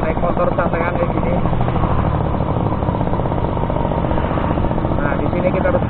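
A Suzuki RC100 motorcycle engine drones steadily throughout, a continuous buzzing ride noise on a busy road, with a voice talking over it.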